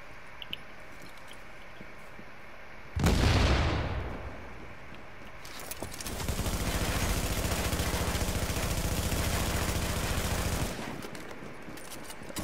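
A grenade goes off in a video game with a loud, sudden burst that decays quickly, followed by a long steady crackling rumble that fades out after several seconds.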